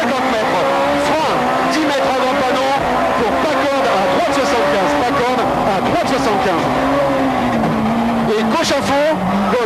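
A Group-A BMW M3 E30 rally car howls along a tarmac stage, its engine loud and continuous with rising and falling revs and shifts, heard close and unbroken throughout.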